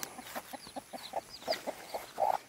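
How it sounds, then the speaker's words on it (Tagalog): A chicken clucks in a short, regular series near a planted garden, the clucks growing louder toward the end, heard alone without speech. "may manok."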